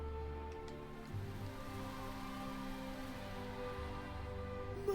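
Steady rain in the video game Dragon Quest VIII: Journey of the Cursed King, a soft continuous patter with low rumbling ambience running evenly throughout, no talk.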